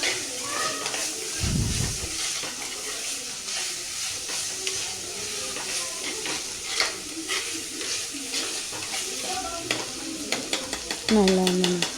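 Fish curry in a pan, likely kanava (squid), being stirred as it fries, with a steady sizzle and repeated scraping strokes, and a brief low thump near the start.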